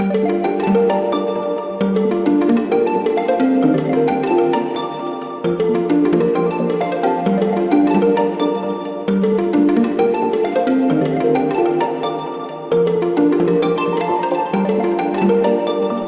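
Melodic beat produced in FL Studio, a looping bright synth melody over deep bass and drums, repeating in steady bars, loud and continuous with no voices.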